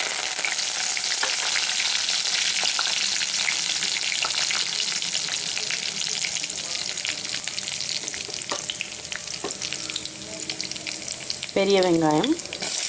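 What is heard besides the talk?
curry leaves and coriander added to hot pan sizzling, semiya upma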